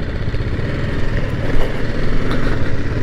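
A motorcycle engine running steadily at a low, throaty idle, loud and close, with a slight rise in rumble midway and no talking.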